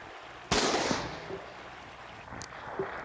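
A single sharp gunshot rings out during shooting practice, loud and fairly close, followed by a faint echoing tail and a couple of small distant knocks.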